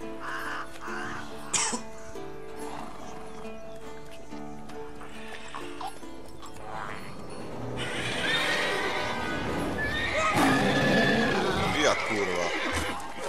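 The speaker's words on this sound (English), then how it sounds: "Whoa there, Roach" In The Witcher 3: Wild Hunt on PC, on the way to Kaer Morhen, a horse whinnies and snorts and its hooves clop along under game ambience and music, with a voice speaking over parts of it.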